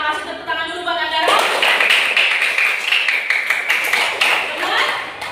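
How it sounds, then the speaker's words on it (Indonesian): Students clap together in a classroom, a busy rhythmic burst of hand claps that starts after a brief tonal sound and continues steadily, with voices mixed in. "kasih tepuk tangan dulu buat Andara"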